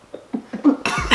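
A voice imitates a harsh coughing fit, several short choppy bursts building to a louder, rougher cough at the end, close and alone.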